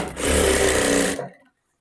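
Sewing machine stitching salwar panels in a short, loud mechanical burst of rapid needle chatter that runs for about a second, then stops abruptly and fades to silence.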